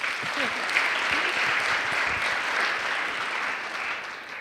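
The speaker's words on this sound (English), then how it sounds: "You can clap." Guests at an award dinner clap steadily throughout, a full, even wash of applause from a nearby crowd, with faint voices beneath it.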